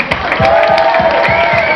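Applause and cheering from a live audience for a band at an evening multi-group concert, a dense steady roar of clapping and crowd noise with no talk over it.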